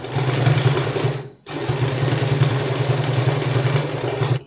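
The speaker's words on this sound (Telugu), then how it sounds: "దీని మీద లేస్ కుట్టేసుకుందామండి" A sewing machine stitches lace onto a blouse, running in a steady, close whirring drone that pauses briefly once before resuming.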